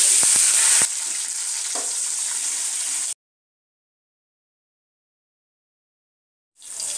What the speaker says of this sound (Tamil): பாருங்க இப்போ நல்லா வெங்காயம் வதங்கி வந்துடுச்சு